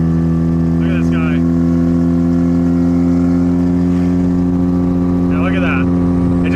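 A Mazda RX-7 FC3S Turbo II drives along with a loud, constant engine drone and steady road noise heard close up, while a couple of brief faint voice-like bursts rise above it.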